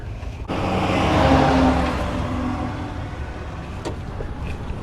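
A car drives along a road in a golf community, heard from inside or close by as a steady, loud broadband road and engine rumble that holds throughout the clip.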